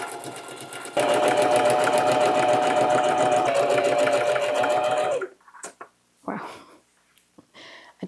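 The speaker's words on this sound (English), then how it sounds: "now I'm just going to overlock the top edge of the hem facing" An overlocker serges the top edge of a hem facing, running steadily and loudly at close range for about five seconds with a rapid mechanical chatter, then stopping, followed by a few faint handling clicks and shuffles.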